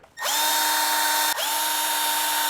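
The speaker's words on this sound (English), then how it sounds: "Careful using your power tools. Going into plastic, you don't want to go too far." A power drill whirs up to a high steady whine, dips briefly, then keeps spinning as it drives a screw into the plastic of a Traxxas Maxx Slash RC truck close by.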